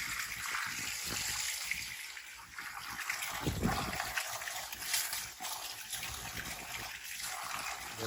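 Water gushes and splashes from a pipe during a water meter installation, a continuous hissing, sputtering flow with irregular splatter, close and fairly loud.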